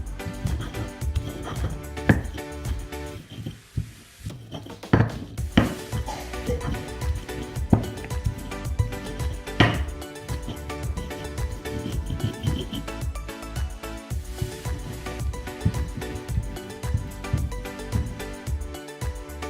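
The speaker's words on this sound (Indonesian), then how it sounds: "Kemudian kita ulek sampai halus." A stone mortar and pestle grinds a seasoning paste with salt and flavor enhancer for eggplant. Repeated grinding scrapes and dull taps run in a steady rhythm throughout.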